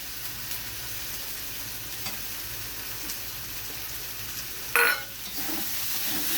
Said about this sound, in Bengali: চিংড়ি মাছটা দিয়ে আবার আমি একটু কষিয়ে নেব